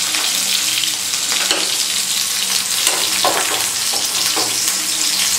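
Chopped green chillies fry in a pan for tindora chutney, giving a steady, close sizzle with occasional stirring scrapes.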